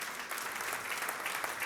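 A church audience applauds in a short, dense burst of steady clapping, fairly close and even throughout, with no voices over it.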